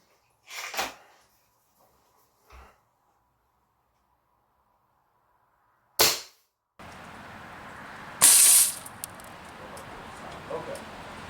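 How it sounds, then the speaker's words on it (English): Pellet-gun shots at about 950 feet per second, striking and imploding a CRT cathode ray tube: several sharp isolated cracks spaced seconds apart, and the last loud pop is followed by a burst of shattering and rattling debris noise. "This gun, fantastic pellet gun, if you ever want one."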